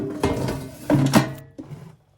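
A Tower air fryer drawer slides back into the unit, giving a few close plastic scrapes and knocks ending in a firm clunk, then silence.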